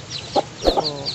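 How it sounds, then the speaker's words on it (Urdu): Aseel hens cluck in short, close, low-pitched bursts, and newly hatched chicks give high, thin peeps in the background. "اس بلاگ میں ہم آپ کو دکھائیں گے جو ہم نے چوزے نکلوائے ہیں"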